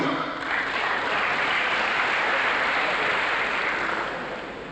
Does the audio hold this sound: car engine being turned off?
no